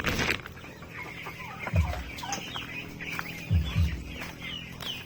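Native chickens in a coop during rain cluck and call in scattered short bursts, fairly faint, over a steady wet background hiss.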